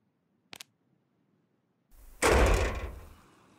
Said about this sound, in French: Quelqu'un frappe à la porte.